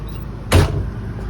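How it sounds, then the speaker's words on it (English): A door swings shut with one sharp, loud thump and a short rattle, heard alone above a steady low hum from a running air conditioner. "I'm gonna close this door, man, because that air conditioner."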